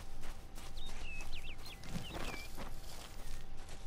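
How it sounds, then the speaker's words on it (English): In the Kingdoms of Amalur: Re-Reckoning game world at night, birds give several short chirps and whistles over a steady ambient bed. Faint, mid-distance, and without talk. "There's birds even at night."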